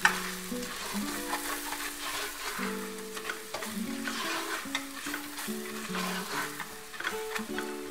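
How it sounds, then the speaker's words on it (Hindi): Garam masala and spices frying in a pan for shahi chicken curry, with a continuous sizzle and repeated scraping and tapping of a spoon as the mixture is stirred, nearby, no talking. "थोड़ा सा भूने"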